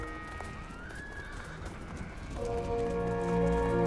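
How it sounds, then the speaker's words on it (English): A herd of horses travelling through an Altai mountain valley with goats, sheep, cows and a camel, hooves clip-clopping steadily while whinnies rise in the middle and a louder neighing chorus swells near the end. "We're off. With 300 goats, 200 sheep, 60 cows, 40 horses, and 1 camel."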